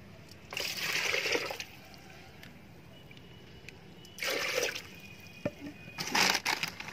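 Water poured from a dustbin while mixing liquid fertilizer from mustard cake and jaggery, heard as three separate splashing gushes, each one to two seconds long, with quiet gaps between them.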